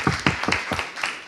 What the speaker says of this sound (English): you can give applause for every teams here